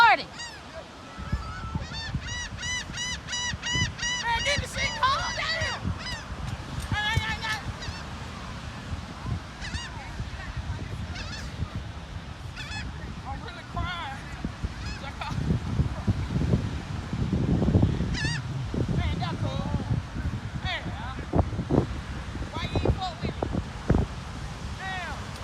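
Geese honking loudly and repeatedly while being fed chips outdoors, with rustling and wind buffeting the microphone and people talking excitedly over the calls.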